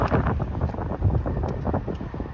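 Steady gusting Arctic wind on a snowy street in Etobicoke, Toronto, buffets the microphone, a loud continuous low rumble with no voices.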